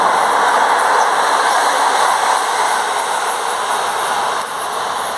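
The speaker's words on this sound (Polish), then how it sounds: "Już hałasują tory, bo się zbliża tamten pociąg." A train rumbles past on nearby rail tracks in Gdynia, Poland, a loud continuous roar with metallic hiss that eases slightly near the end.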